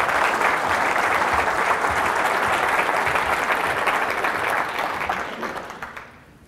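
Audience applause welcoming Dr. Don Huber at the Grassfed Exchange 2014 conference, a dense, steady clapping from a full room that holds strong for several seconds before tapering off toward the end.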